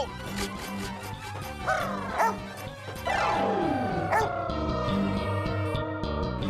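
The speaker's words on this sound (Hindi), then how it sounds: "अरे कोई है इस लापतागंज में जो हमें पागल कुत्ते से बचाए?" A dog yips and barks over a busy comedy-scene music bed in a small town, the barking sounding like a mad dog chasing people, loud and close with rising whimper-like tones.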